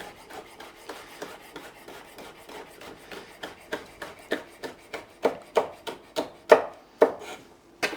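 A knife slices a halved sweet pepper lengthwise into thin strips on a board, a run of close, crisp cuts that fall into a quicker, louder rhythm toward the end.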